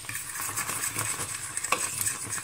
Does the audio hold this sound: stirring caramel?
yes